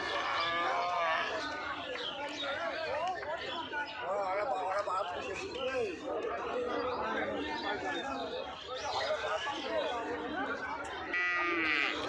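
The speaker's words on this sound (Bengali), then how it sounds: "খুব সুন্দর কোয়ালিটি গরু" Sahiwal cattle low repeatedly at a busy city cattle market in Rajshahi, Bangladesh, the moos rising over continuous crowd chatter and bargaining voices throughout.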